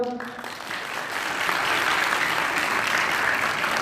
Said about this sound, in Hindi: ताली बजाओ जरा।